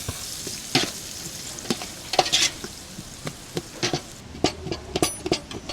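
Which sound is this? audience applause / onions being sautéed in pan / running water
onions being sautéed in pan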